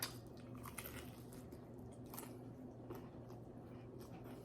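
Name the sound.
chewing crunchy pork belly skin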